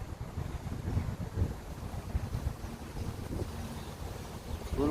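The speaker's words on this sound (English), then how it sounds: "It's a little windy." Gusty wind buffets the microphone with low rumbling thumps, rising and falling over a few seconds, with no one speaking.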